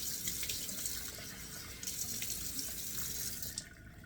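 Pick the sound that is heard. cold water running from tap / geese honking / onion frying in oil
cold water running from tap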